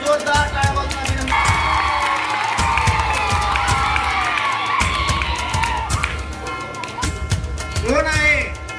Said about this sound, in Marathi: आघाडीवरच्या उमेदवारांचा जोरदार टाळ्या वाजवून अभिनंदन.